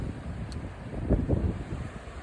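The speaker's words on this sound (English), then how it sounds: "So yeah, it's getting windy." Wind gusts buffet the microphone in a low rumbling rush at the beach, with a brief louder thump midway.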